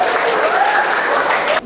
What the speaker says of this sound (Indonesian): kita beri tepuk tangan atas perwakilan kelompok 1